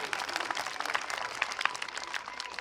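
Scattered audience clapping at a Republic Day school event rises briefly, a light patter of hands heard from a moderate distance.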